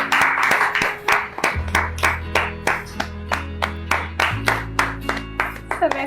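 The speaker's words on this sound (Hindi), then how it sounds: "तालियां बजा दीजिए" An audience at a home-quiz game show claps in a brisk, regular rhythm, each clap sharp and distinct, over a steady low musical tone.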